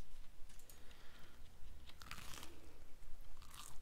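Crunchy food is chewed close to the ear, with steady crisp bites and crackling crunches, quiet and alone with no talking.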